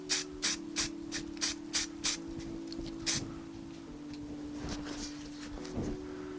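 Aerosol spray paint is dusted onto Austin Mini brake discs in a rhythmic run of short, close hissing puffs, then fainter intermittent bursts over a low steady hum.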